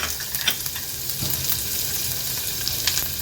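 Chopped onion hits hot tempering oil seasoned with cumin and crushed coriander seeds, raising a loud, continuous sizzle with scattered pops and a few stirring scrapes and no voices.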